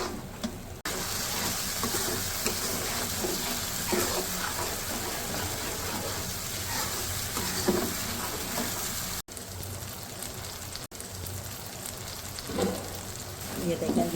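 Spices for chana masala gravy roasting and sizzling in oil in a pan, a steady close frying hiss with occasional stirring scrapes throughout.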